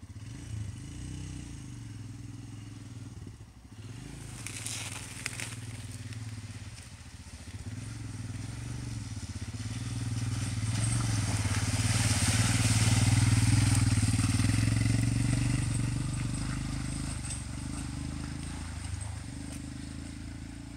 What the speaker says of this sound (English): you've been going up and down this muddy trail on both bikes